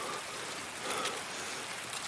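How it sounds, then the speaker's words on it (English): Steady hiss of rain falling in Escape from Tarkov, an even wash of pattering drops with no other sounds. "Classic rain on a weekend in Tarkov, man."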